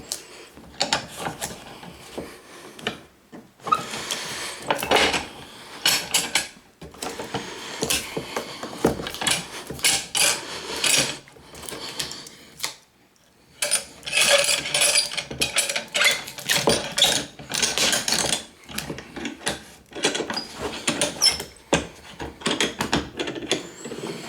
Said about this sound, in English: Watch the crack as I tighten up the clamp.